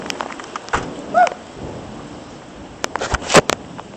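Rain patters steadily on a car and the surroundings, broken by several sharp cracks and thumps that sound like nearby thunder, with no voices.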